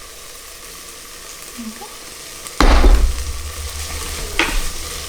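Garlic and onions sautéing in a pan, a quiet hiss that suddenly jumps into a loud, close sizzle with stirring scrapes, while a voice speaks briefly.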